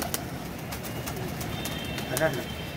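Pigeons coo softly in a loft holding newly netted birds, including golden pigeons, faint low murmurs beneath steady background hum with a few sharp clicks and a brief higher chirp near the end.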